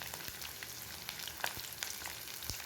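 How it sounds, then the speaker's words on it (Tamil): Small shallots sautéing in oil in a pan for spicy mutton chukka, a soft steady sizzle with scattered crackles and a few stirring clicks, close and fairly quiet, with no talking. "வெங்காயம் சேர்த்து நல்லா வதக்கி விட்டுக்கலாங்க."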